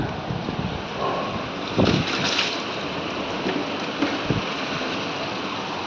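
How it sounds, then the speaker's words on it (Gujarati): Heavy rain pours steadily at a rural home with cattle, a dense continuous hiss of falling water with a few louder splashes and spatters standing out over the wash. "જો ભાઈ વરસાદ જોઈ લો તને વરસાદ જોરદાર"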